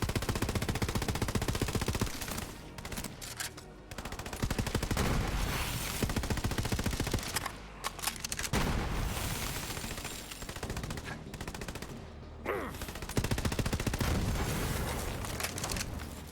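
Heavy automatic gunfire and booming blasts from big guns in the Borderlands 3 shooter game rattle in loud, dense bursts separated by short lulls.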